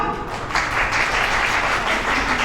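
A crowd at a Savitribai Phule Jayanti event breaks into sustained applause, a thick, continuous wash of clapping that swells early and stays strong to the end.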